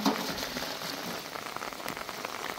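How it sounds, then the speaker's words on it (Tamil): Chicken pieces rinsed in a generous amount of water for chicken dalcha, a steady close splashing and sloshing that continues for a few seconds with no voices. "இந்த மாதிரி தாராளமாக தண்ணி வச்சு அலசணும்."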